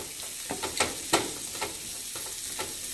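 Sourdough pasta primavera vegetables being stirred in a pan over medium heat, with a steady sizzle broken by several soft scraping strokes spread across the stretch, close and fairly loud.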